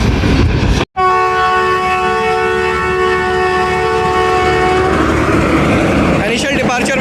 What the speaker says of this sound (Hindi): इनिशियल डिपार्चर विसल हो गए।